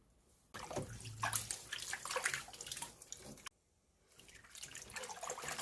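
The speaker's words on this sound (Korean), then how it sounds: "깨끗이 씻어서 식초 두 수저에 5분 정도 담가 놓겠습니다." Pumpkin leaves being washed in water, with close splashing, swishing and dripping in bursts, a short quiet pause, then more sloshing, fairly faint overall.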